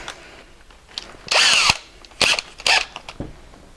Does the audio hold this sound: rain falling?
no